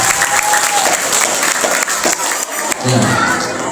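An audience at an Isra' Mi'raj religious gathering applauding a boy named Fahri, loud steady clapping with some crowd noise and children's voices, continuing for the whole stretch.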